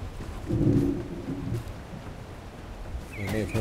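A thunderstorm in the game The First Descendant: a loud rolling thunder crack rises and fades over steady rain, followed by further game sounds near the end.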